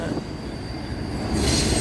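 An FEC freight train, number 107, passes close by in St. Augustine with a loud, continuous rail rumble and squealing wheels that grows stronger toward the end.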